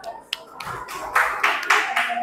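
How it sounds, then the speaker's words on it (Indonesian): Scattered clapping from a classroom of students for a group at a teaching practice session, a few sparse claps building into brief rounds of applause, with faint voices underneath. "tepuk tangan buat kelompok 3"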